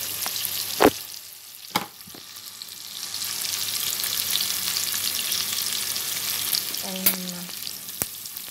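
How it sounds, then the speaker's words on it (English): Chopped onion sizzling and frying in hot oil in a pan for Arabic-style white rice, a steady crackling hiss throughout with a few sharp clinks of a utensil against the pan. "Yung oil at saka onion dito, nilagay ko."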